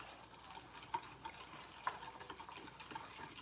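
A spoon stirs a ham glaze mixture in a bowl with soft, steady scraping at low volume and two brief clinks of metal against the container, without voices.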